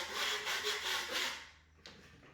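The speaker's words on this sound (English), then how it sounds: "30 minutes later, scrape off all bumps and lines." A tool scrapes bumps and lines off dried plaster on a ceiling, making close, rough rubbing strokes in a steady rhythm for over a second, then a pause and one brief final scrape.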